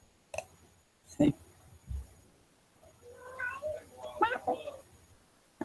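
A pet cat meows indoors, a few soft, short cries close by, mixed with scattered clicks and quiet room noise.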